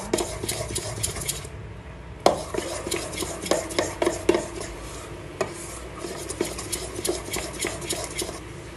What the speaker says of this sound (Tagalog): Haluin mo pa siya.